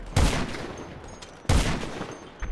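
Two loud, close sniper rifle shots in a video game, about a second and a half apart, each a sharp crack with a booming low tail and a long decay, with no talk over them.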